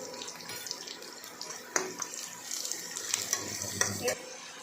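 Turmeric is sautéed in a pan for dahi kadhi, producing a soft, steady sizzle with intermittent scraping and stirring clatters, fairly quiet and close, with no speech.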